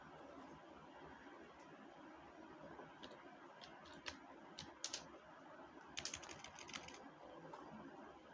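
Computer keyboard typing, faint scattered keystrokes and short quick runs of clicks over a low steady room hiss.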